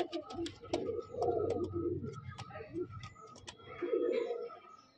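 Pigeons from a breeding pair offered for sale coo repeatedly, soft low throaty calls rolling one after another with faint chirps and rustling around them, fairly close.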